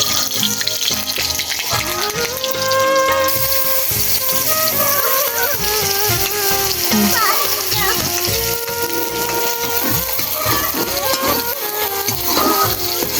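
Garlic and chopped onion sizzle in a hot pan with a steady, dense frying hiss throughout, while music plays and voices occasionally talk over it.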